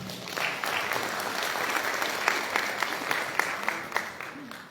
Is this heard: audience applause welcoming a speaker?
yes